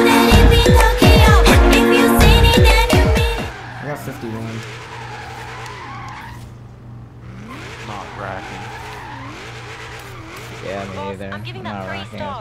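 A car drifting in Forza Horizon 3 among drift builds such as a BMW M2, RX7 and FRS, with loud, close tire squeal and engine roar at first, then a quieter running engine and lighter squeals while people talk over it.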